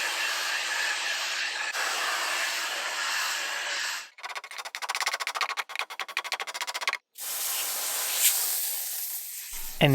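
A steamer hisses steadily against the glued dovetail joints of an old wooden bookcase, a loud continuous spray broken by a short burst of rapid crackling pulses and two abrupt cut-offs, with no voices.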